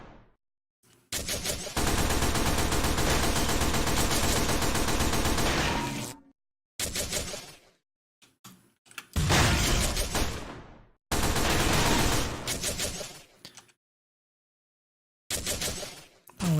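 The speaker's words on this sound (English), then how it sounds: "Oh wait, who's shooting at me now?" Sustained bursts of rapid enemy gunfire in the video game Gunsun Zeros, loud and close, in several long volleys separated by abrupt silences.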